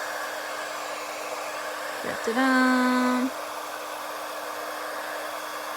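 A heat tool melts embossing powder on a foil card, blowing a steady airy whoosh from start to finish, with a short sung voice over it near the middle.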